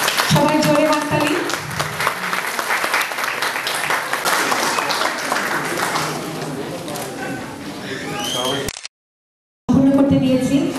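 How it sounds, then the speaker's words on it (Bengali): A crowd at the Joy Bangla Award 2016 ceremony in Montreal claps loudly for several seconds, with voices and music mixed in and a sudden short silent gap before sound resumes. "সবাই জোরে হাততালি।"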